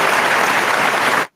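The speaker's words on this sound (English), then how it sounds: "I know y'all, my claps need help" Hands clap steadily and densely, like a small crowd applauding together, loud and continuous for just over a second before stopping abruptly.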